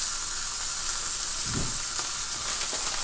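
Halal smash burger patties of organic, farm-raised beef sizzle on a hot surface, a steady close hiss with a brief fuller burst midway, no talking.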